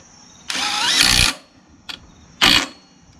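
A Craftsman YS4500 lawn tractor engine is being started after a repower. The starter cranks loudly for about a second but the engine does not catch, followed by a short click and then another brief crank, close by with no talking.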